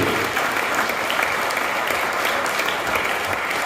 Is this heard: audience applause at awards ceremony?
yes